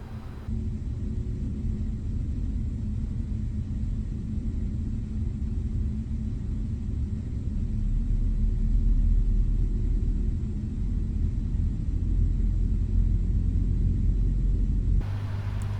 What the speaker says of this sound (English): Alright, starting engine 2.